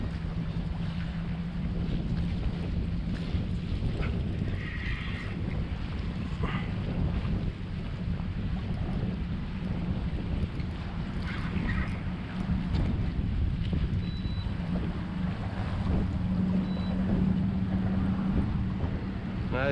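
Steady, loud wind buffets the microphone aboard a fishing boat out sheepshead fishing off New Jersey, with a constant low rumble and water noise and no talking.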